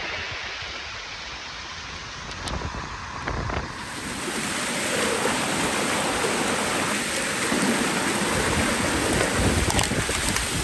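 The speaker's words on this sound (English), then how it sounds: "Everywhere waterfall." Rushing water from waterfalls on the Anjaneri hills near Nashik, a broad steady roar with gusts of wind and occasional crackles, loud and continuous with no voices.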